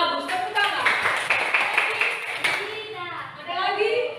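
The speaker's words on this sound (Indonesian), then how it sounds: "Bagus, tepuk tangan." Children in a classroom clap together at a teacher's prompt, a steady patter of many hands with children's voices over it.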